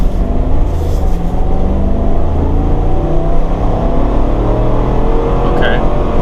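A 2021 Chevrolet Tahoe Premier SUV accelerating, heard from inside as a loud, steady engine drone with road rumble that builds gradually over several seconds, with no clear talking over it.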